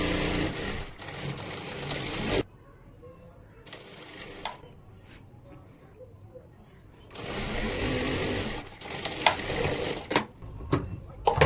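A sewing machine runs a shoulder seam on a cotton A-line kurti in two loud steady bursts with a quiet pause between them, followed by a few sharp clicks and knocks near the end.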